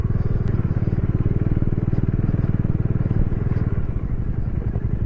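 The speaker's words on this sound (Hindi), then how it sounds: "बहुत दूर से देर से हम लोग ऐसे ही चला रहे हैं बाइक।" A Bajaj Dominar 400 motorcycle rides a rough unpaved track in Ladakh, its steady rapid engine thump running loud and close throughout, with light clattering from the bumpy surface.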